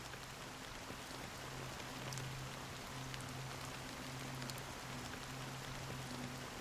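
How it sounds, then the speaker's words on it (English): Steady rain falls in the Honkai: Star Rail game world, a soft continuous hiss of drops with a faint low hum beneath, quiet and even throughout. "So, how long has this rain been going on for?"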